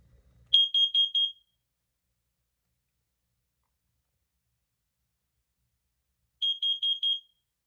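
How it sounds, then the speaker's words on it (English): On a demo board, a carbon monoxide alarm gives a burst of four rapid high-pitched beeps, goes silent for several seconds, then repeats the four-beep pattern, after a faint low rumble at the start. "I'm guessing this is right about to alarm in CO"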